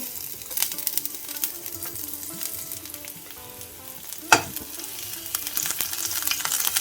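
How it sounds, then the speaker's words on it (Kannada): Ginger and garlic frying in hot oil for Indian-style coconut manchurian, a close, steady sizzle with faint stirring scrapes and one sharp clatter midway. "ಎಣ್ಣೆ ಬಿಸಿ ಆಗ್ತಾ ಇದ್ದಾಗ ಫಸ್ಟಿಗೆ ಶುಂಠಿ ಬೆಳ್ಳುಳ್ಳಿ"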